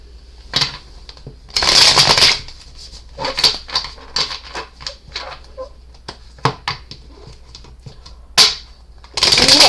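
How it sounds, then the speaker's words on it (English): Tarot cards being shuffled by hand during a reading, giving several bursts of dry riffling and patter separated by short pauses, close and fairly loud with no talking. "Okay, let's shuffle the cards."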